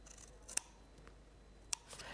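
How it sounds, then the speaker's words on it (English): Scissors cutting embossed card along a score line during a craft session, two crisp separate snips in a quiet room with faint rustling between them. "So we're going to take a scissors."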